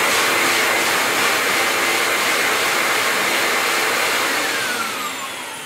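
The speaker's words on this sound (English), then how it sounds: "So the twin motor is giving me a massive volume of air" A twin-motor high filtration dust extractor roars steadily at full power with a loud, broad whooshing rush of air drawn through a long hose, then starts to wind down slightly near the end, with no talking.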